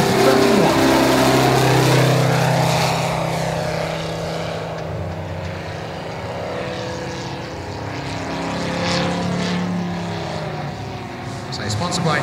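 An Andy Rigby Super SU31 model aerobatic aircraft flies at the Weston Park model air show, its engine droning loudly and steadily with rising and falling pitch as it passes, while a commentator talks over it.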